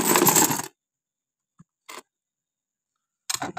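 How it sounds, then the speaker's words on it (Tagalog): Coins are poured out of a wallet packed full of coins, with a loud metallic jangle at the start, then a few brief scattered clinks separated by silence. "Isang wallet na punong-puno ng barya."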